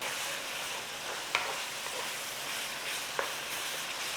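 Minced beef browning in a pan gives off a steady, soft sizzle with a couple of sharp clicks from stirring, with no talking over it.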